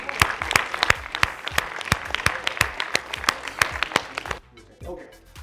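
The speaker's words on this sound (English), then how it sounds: "Round of applause" A small group applauds, with a handful of distinct, loud claps in a quick uneven rhythm that stop abruptly, followed by talk.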